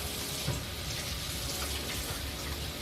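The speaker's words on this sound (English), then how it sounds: "I'm washing my hands." Water runs steadily from a kitchen tap while someone washes their hands during cooking, a soft, continuous splashing hiss throughout with no talking.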